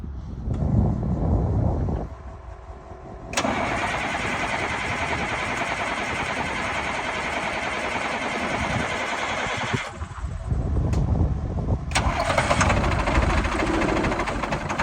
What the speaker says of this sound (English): we're gonna crank it over, let it get some oil pressure, and then we're gonna fire it up